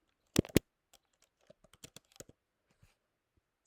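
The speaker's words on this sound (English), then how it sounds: "and then I start typing." Fast keyboard typing: a quick burst of sharp key clicks, then scattered lighter taps in an irregular rhythm, close and otherwise quiet.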